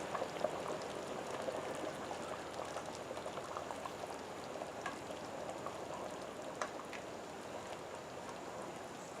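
Rice boiling in a pot on a home stove, a steady bubbling and simmering hiss with small pops throughout, continuous and moderately close, with no talking.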